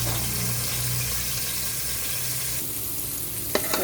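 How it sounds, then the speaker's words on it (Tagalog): Garlic and turmeric sizzling in a little hot oil, a dense steady frying hiss up close, a brief clink of a utensil near the end. "maglagay na tayo ng konting mantika. Silagay natin tong bawang at itong luyang dilaw."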